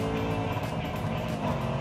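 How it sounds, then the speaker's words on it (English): Range Rover Sport SVR exhaust cackling and popping loudly from close by, a dense, rough engine roar with crackles through the whole brief burst. "Listen to it cackling and popping."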